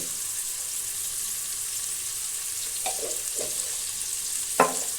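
Sliced onions with a little salt frying in a pan give off a steady, even hiss, broken near the end by a few faint stirring taps, with no voices.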